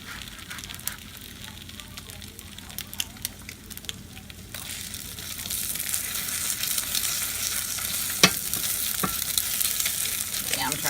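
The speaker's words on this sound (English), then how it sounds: "I'll let that egg cook up" An egg frying in bacon grease in a cast iron pan, giving a steady crackling sizzle that grows louder partway through, with a few utensil taps and light talk over it.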